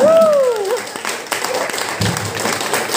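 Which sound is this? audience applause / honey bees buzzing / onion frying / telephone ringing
audience applause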